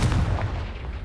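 A Confringo spell blast in Hogwarts Legacy lands as a single loud, heavy boom with a deep rumbling decay, close and unaccompanied by talk.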